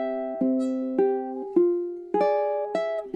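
Plucked ukulele notes pick out the opening melody of Chopin's Nocturne Op. 9 No. 2 with thumb picking, each note struck crisply and left ringing in a slow, lilting rhythm, close and solo.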